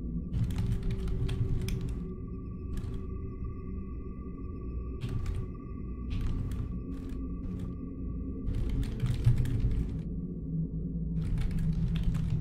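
Fingers tapping on a computer keyboard in short, irregular bursts of crisp clicks separated by pauses, over a steady low background hum.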